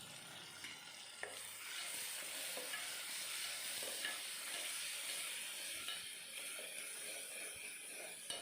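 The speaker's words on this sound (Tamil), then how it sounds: "தக்காளி நல்லா வதங்கணும்" Chopped tomatoes softening in a pan for a potato gravy give a faint, continuous frying hiss, with an occasional soft click of a utensil. There is no speech.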